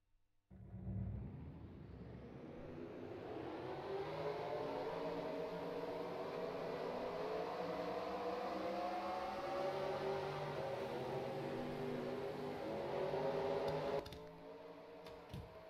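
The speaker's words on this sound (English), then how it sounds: "So now let's get these cars rolling off." Sim racing cars roll off at the start of a race at New Jersey Motorsports Park, with engines droning and rising steadily in a continuous, building whine for about thirteen seconds before cutting away.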